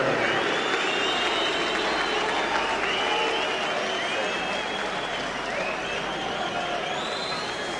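A large crowd at a boxing match roars continuously, a loud sustained wash of voices, whistles and noise with no clear breaks.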